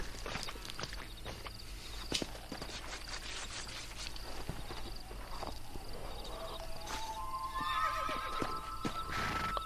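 A horse whinnies in Red Dead Redemption amid clip-clopping hooves and footsteps, with a sharp neigh rising clearly near the end over a steady outdoor ambience.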